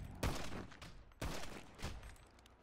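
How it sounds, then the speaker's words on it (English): Two sharp, loud gunshots about a second apart in a GTA roleplay game, each with a short booming tail, followed by quieter reverberant rumble. "I have shot the suspect in the head"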